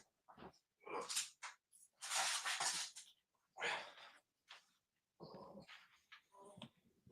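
A Boston Terrier whimpers and whines in several short bursts, loud and close, with brief pauses between the cries.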